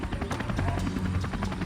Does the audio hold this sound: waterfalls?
no